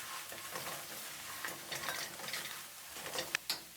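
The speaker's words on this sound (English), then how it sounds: "Add the pine nuts. Briefly stir and turn off the heat." Pine nuts are stirred in a pan over low heat for basil and garlic crispy wings, giving a quiet, steady sizzle dotted with light scraping ticks and a couple of sharper taps near the end.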